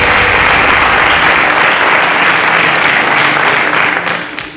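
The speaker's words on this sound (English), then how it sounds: "A round of applause for yourselves." A studio audience applauds semi-final qualifiers in a steady, dense burst of clapping that holds loud throughout and tapers slightly at the end.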